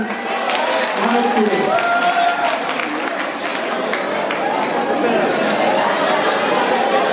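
A crowd of students in Kédougou cheers and claps as a general secretary of their association is elected by acclamation, a dense roar of chatter and applause with voices rising over it, loud and sustained throughout.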